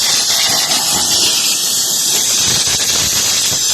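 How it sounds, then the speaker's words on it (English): Compressed air from a small compressor is blown through the sail switch of an Atwood RV furnace, giving a loud, steady, unbroken hiss that runs the whole time with no talking. "He's blowing it out."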